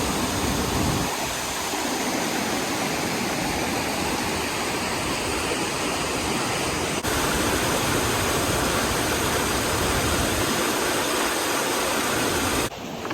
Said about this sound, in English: we're sitting on a rock, casually, watching the waterfall and watching the ocean